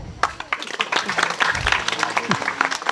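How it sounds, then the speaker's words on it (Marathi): Audience at a Marathi kirtan on Chhatrapati Shivaji Maharaj clapping in scattered bursts, moderately loud, mixed with crowd voices and chatter throughout. "प्रत्येकाने आपापल्यासाठी एकदा टाळी वाजवा."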